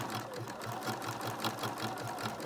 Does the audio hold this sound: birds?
no